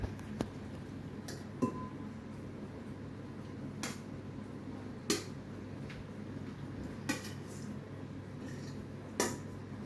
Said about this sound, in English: You just spoon it into the jar